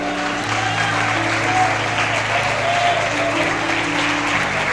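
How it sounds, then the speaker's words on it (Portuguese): A church congregation applauds together during a worship service, a dense, steady wash of clapping lasting throughout, with sustained keyboard notes held underneath. "Aplauda Ele."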